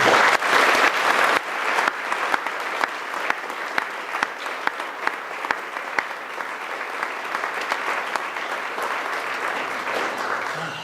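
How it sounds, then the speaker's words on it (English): An audience applauds the doctors at a community gathering with loud, continuous clapping, a crowded wash of hands with sharp individual claps standing out, lasting about ten seconds. "So please give me a second and applaud these guys for everything that they did."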